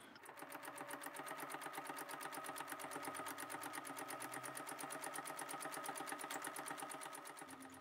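Sewing machine stitching coloured thread through fabric, drawing connected circular seed shapes, a steady fast needle clatter running evenly and close throughout with no pauses.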